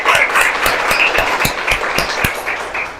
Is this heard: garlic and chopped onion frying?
no